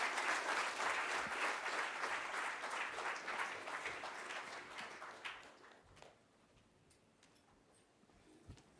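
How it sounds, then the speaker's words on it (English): An audience at the grand inauguration of Coimbatore Samkalp IAS Academy gives a round of applause to welcome the chief guest: dense clapping from a crowd that holds steady for several seconds, then thins and fades to a few scattered claps. "I welcome our esteemed chief guest with a resounding round of applause."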